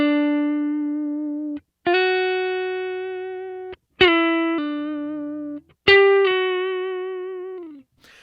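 An electric guitar played through a Kemper amp with no compressor rings out in sustained single notes and bends, each decaying slowly before the next pick, loud and clear with no voices.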